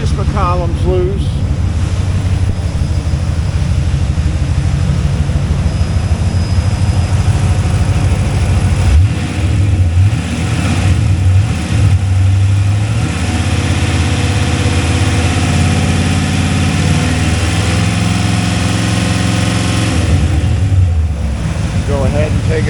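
1995 Corvette C4 with LT1 engine running near the microphone, a steady low idle with a few blips of revving midway, loud and continuous throughout.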